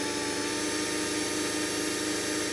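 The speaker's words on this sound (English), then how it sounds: "we can take that painter's tape back and finish drilling out that bottom hole because we know where it is" Power drill finishing a bottom hole through a 2022 Chevrolet truck dashboard during a brake controller install, a steady loud continuous whir with a rapid pulsing hum running close up throughout.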